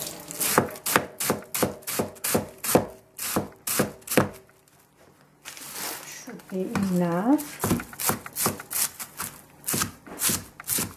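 Ingredients for egg rolls are chopped on a board in fast, regular knife thuds, pausing briefly while a voice speaks and another sound intrudes, then resuming the steady rhythm.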